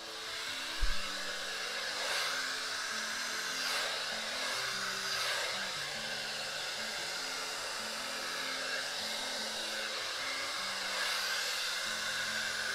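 A hair dryer blows across acrylic paint in a Dutch pour, a steady loud whooshing roar lasting throughout, with a brief thump early on and music playing faintly underneath.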